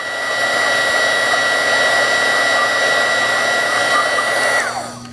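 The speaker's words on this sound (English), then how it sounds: "we'll actually use a little heat on the valve cap with a source like a hot air gun" Hot air gun blowing steadily on a stuck brass instrument valve cap, a close, loud, even whoosh with a fan whine that holds for about five seconds before cutting off.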